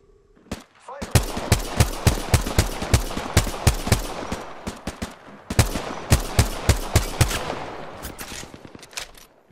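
Rapid bursts of Apex Legends gunfire rattle loudly and repeatedly, a long string of sharp shots with a short pause midway before more fire resumes.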